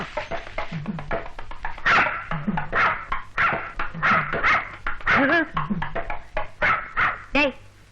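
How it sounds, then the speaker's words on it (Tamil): A dog barks repeatedly at a man wearing a mask in a Tamil comedy film scene, sharp close barks and yips coming in quick irregular bursts, mixed with people talking over them. "டேய், இந்த முகமூடி இருக்கிறனால நாய் குலைக்குது"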